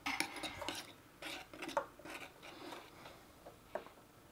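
Galaxy slime being mixed with borax, producing irregular wet squelches, taps and scraping clicks at close range, with bursts coming in uneven clusters and no voices.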